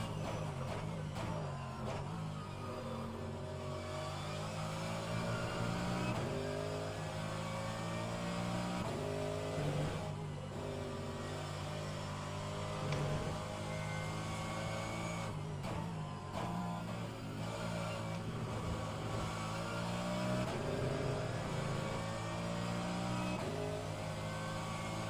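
Race car engines in the rFactor2 racing simulator at Road America: a continuous loud engine drone with shifting pitch as cars rev and shift gears, sustained for the whole stretch without talk.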